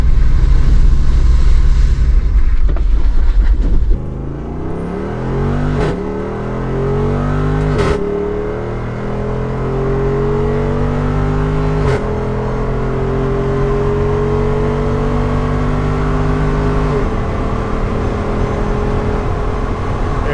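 A Jeep Wrangler 392 V8 drives along Everglades Boulevard, opening with wind rush before the engine rises repeatedly in loud, climbing revs through several gear changes that last the whole stretch.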